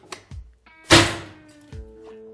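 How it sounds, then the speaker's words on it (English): A projectile shot strikes ESS CDI Max military-rated sunglasses, a single sharp loud impact thud preceded by a few smaller knocks, then quiet ringing tones in a near, otherwise silent setting. "Now, let's shoot the ESS CDI Max mil rated sunglass."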